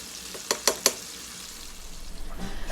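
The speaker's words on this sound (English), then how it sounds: "I've started a pan for our fries." Fries sizzle in a frying pan of hot oil during a home fish fry, with three sharp clinking knocks at the start, then a soft, steady crackle that grows louder toward the end.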